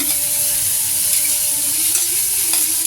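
Beans, carrot and capsicum sauté in a hot pan, giving a continuous, close, bright sizzle with light stirring scrapes throughout, no talking.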